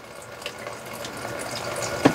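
Vodka poured into the floor shower drain of a Tab 400 travel trailer being winterized: a steady, close trickling splash of liquid running continuously into the drain, with a brief sharp knock near the end and no talking.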